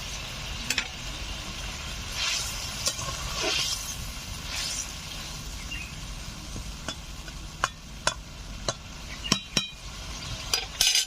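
Amudi fish with mustard paste sizzling in a pan for a tamarind curry, a steady close fry under scattered clinks and scrapes of a spatula against the pan, getting busier toward the end.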